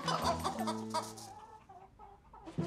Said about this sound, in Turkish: Arkadaşlar, tavuk deyip geçmeyin. Bunlar candır her şeyden önce. Bunlar sorumluluk isteyen hayvanlardır.